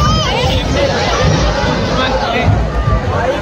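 Dense crowd hubbub at a Diwali Pahat festival in Dombivli, many voices chattering and shouting at close range with shifting babble throughout.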